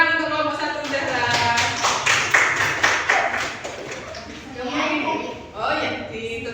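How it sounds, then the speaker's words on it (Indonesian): Classroom clapping for a student group after a presentation, a burst of many hands tapping close by, mixed with children talking and chatter throughout. "Tepuk tangan untuk kelompok 1 Zahra."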